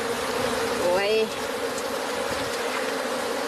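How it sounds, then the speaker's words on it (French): Bees buzzing among mangroves at Joal-Fadiouth, a steady insect drone with one louder bee passing close by, alongside faint background sounds. "beaucoup de gens savent maintenant qu'il y a beaucoup d'abeilles dans la mangrove"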